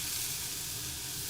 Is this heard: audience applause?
no